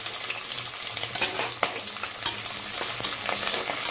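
Chopped onions and green chilli frying in oil in a pan, a steady crackling sizzle with occasional stirring scrapes, close and continuous with no voices.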